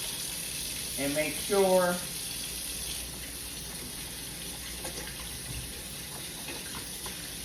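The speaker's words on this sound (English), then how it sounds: "Now, I'm going to wash my hands" Water runs from a kitchen tap during handwashing before fruit is cut, a soft steady hiss throughout, with a person speaking briefly near the start.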